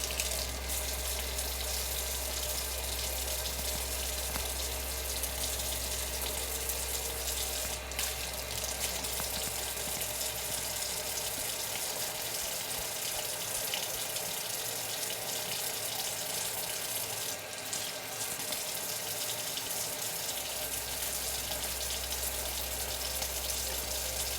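A running tap splashes steadily as a horse grooming brush is rinsed under it, a continuous close hiss of water with no talking throughout.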